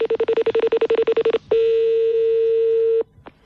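A telephone number is dialed for a call: a rapid run of about fifteen loud keypad tones in steady rhythm, followed by a long continuous tone lasting about a second and a half, then near silence with one brief tone.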